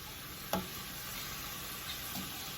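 Beef sizzles steadily in a hot pan, a constant hiss of frying with a sharp clink and a few soft scrapes as the meat is tossed about, close and without talking.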